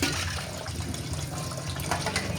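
Running water gushes steadily while a cooking pot is washed by hand, a continuous splashing rush close to the listener with no voices.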